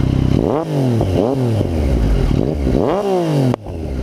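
A 2015 Yamaha FZ-09 (MT-09) motorcycle engine blips through several loud, close revs that rise and fall quickly. A sharp exhaust pop near the end is followed by a quieter idle.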